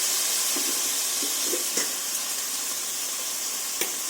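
Raw banana vegetable pieces going into a hot pan give a steady hiss of sizzling oil, with a few soft stirring clicks and scrapes scattered through it.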